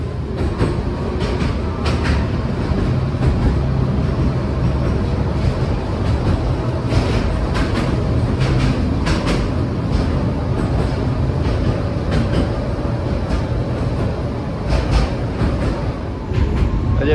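A bidirectional, single-sided-door Tatra tram rumbles steadily along single-track rails in Oradea, Romania, with rhythmic clacking of wheels over track joints and a continuous low mechanical drone, no talking.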